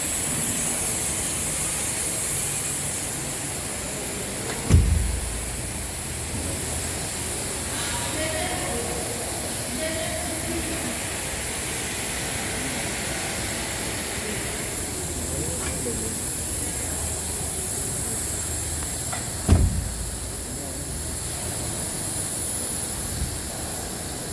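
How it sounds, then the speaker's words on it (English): Continuous compressed air hisses steadily from the spindle of an SCM M100 CNC router throughout, with a couple of sharp knocks and faint machine sounds in the background. "you can see that always continuously the air is spraying down"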